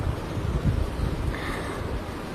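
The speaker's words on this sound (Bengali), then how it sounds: "বাতাস আছে প্রচুর, বাতাসে বৃষ্টিটা একদম উড়াই নিয়ে যাচ্ছে।" Strong wind driving rain past a balcony: a steady, dense broadband rush of gusting air and rain with a low rumble of wind noise on the microphone, unbroken and close.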